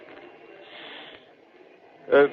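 A voice imitates a rocket-like hiss, compared to a Fourth of July rocket: a steady breathy hiss of about two seconds, followed by a short louder burst of breath, close and on its own.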